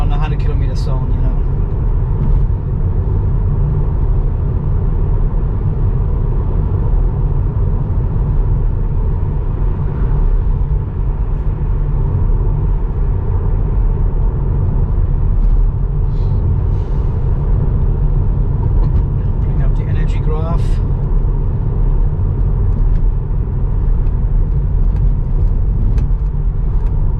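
Steady low road rumble and engine drone inside a car cruising manually on a 100 km/h highway, loud and continuous throughout, with a person talking over it.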